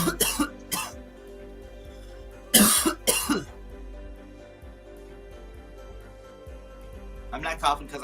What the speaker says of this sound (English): I'm not coughing because I'm sick.